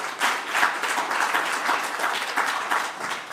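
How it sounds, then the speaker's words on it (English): Audience at a Covenant of Mayors investment forum applauds panelists, a dense, steady wash of many hands clapping throughout, moderately loud, with no talking over it. "Please spend them a warm applause."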